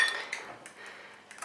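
A utensil works plant milk into vegan, gluten-free, oil-free banana bread batter in a bowl, giving soft, brief clinks and scrapes in a quick, irregular rhythm, close and quiet.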